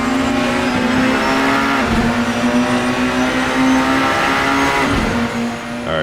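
French touring race cars battling wheel to wheel in Assetto Corsa, a loud, close engine drone rising and falling through gear changes, with a second car's tone layered in and a slight fade near the end.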